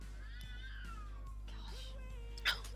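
Cats caterwauling outside at a distance, long wailing meows sliding in pitch, faint and drawn out over a steady low hum, with a brief louder noise near the end.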